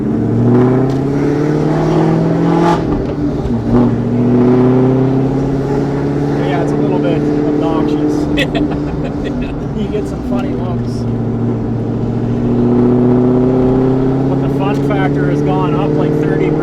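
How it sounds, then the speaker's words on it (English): Supercharged SVT Cobra V8 with a Whipple blower and aftermarket mufflers, revving in a steady deep rumble that rises and settles across several throttle blips, loud and close, with people talking over it. "you can hear the cams a lot better with these mufflers"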